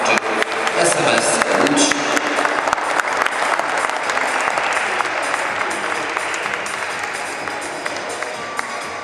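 An audience at a dance tournament claps steadily for the winning couples, a dense, sustained round of applause that slowly fades, with a voice speaking over it.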